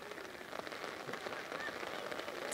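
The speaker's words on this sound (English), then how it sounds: "It's the rain thumps down here at the moment. It's really coming down in bucket loads." Heavy rain pours onto an outdoor rugby field during a Colts match, a steady dense hiss of drops filling the whole stretch without letup.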